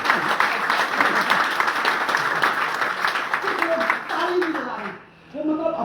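Audience applause at a business training seminar: sustained, dense clapping from a crowd that fades briefly near the end, with voices picking up as it tails off.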